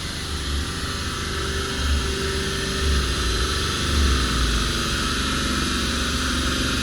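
A Nissan Cube fitted with a stock MR18DE Sentra engine roars steadily on a dyno, holding a loud, broadband drone with slight rises in intensity rather than sharp revs.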